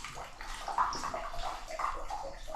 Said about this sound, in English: So in the meantime, we're draining this heater.